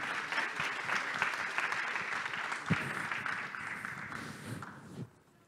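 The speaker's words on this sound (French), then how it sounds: "Sous vos applaudissements." A startup-day business audience at the Mêlée Numérique event claps steadily for about five seconds, a thick wash of hands with a few louder claps, then the applause cuts off abruptly into quiet.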